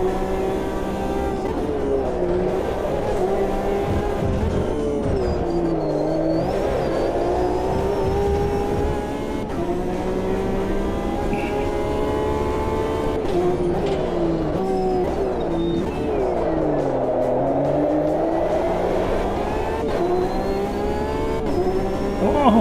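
A Porsche race car engine in a racing video game, revving and shifting through gears with rising and falling whine as it works through a series of corners, loud and continuous.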